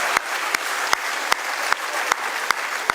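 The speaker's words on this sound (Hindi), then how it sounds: "आप लोग जोरदार तालियां बजाइए" Listeners at a humorous Hindi poetry performance clap loudly and continuously, a thick wash of applause punctuated by sharp, regular louder claps roughly every half second.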